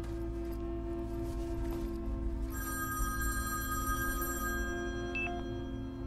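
A mobile phone rings over a steady low hum, a bright electronic tone holding for about two seconds before it cuts off with a short rising beep.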